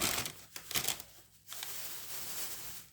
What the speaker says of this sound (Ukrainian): роздеру, роздеру, розрівняю